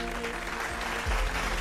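Audience applause at an awards show: a brief, faint patter of clapping hands from a distant crowd.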